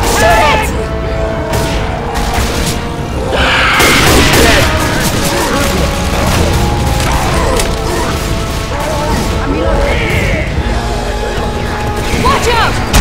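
Rapid gunfire in Left 4 Dead 2 as survivors shoot at a super tank, loud bursts mixed with crashes, booms and mechanical clatter, with shouting voices over the chaotic fight.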